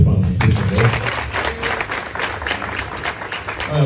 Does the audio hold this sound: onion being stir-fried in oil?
no